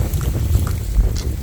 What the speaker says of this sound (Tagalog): Mahangin pa naman dito.